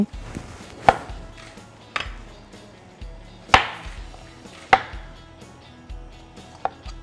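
A knife chops spring onion on a cutting board, sharp isolated knocks roughly a second apart, close and clear over a quiet kitchen background.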